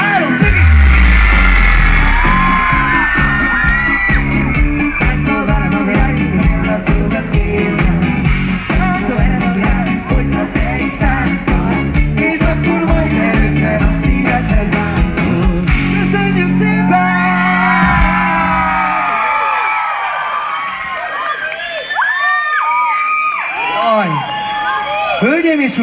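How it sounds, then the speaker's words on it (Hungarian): A large live concert crowd in Nagykáta screams loudly and at length on cue, with yells and whoops over band music. Around twenty seconds in, the music drops away and scattered whistles and cheers remain. "Háromra utolsó sikítás."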